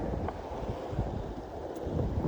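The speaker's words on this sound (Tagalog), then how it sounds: "Lumakas man yung alon" Waves roll in at a beach in Palawan under strong wind, a dense, rushing roar with gusts buffeting the microphone, steady and close without any talk.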